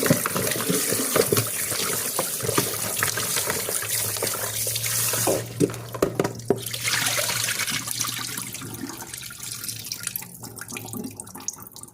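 Running tap water splashes steadily into a sink, with handling and sloshing sounds from raw chicken being rinsed; no voices.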